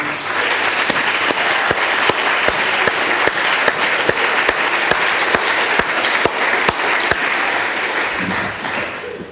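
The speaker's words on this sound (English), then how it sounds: "please join me in a raucous round of applause to congratulate all of our players of the year" Crowd at a 2016 women's soccer awards reception gives a loud, unbroken round of applause for the players of the year, with sharp individual claps standing out over steady clapping.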